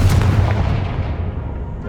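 A Confringo blast spell fires in the video game Hogwarts Legacy as a short, loud, booming explosion with a deep rumbling tail that fades over about two seconds.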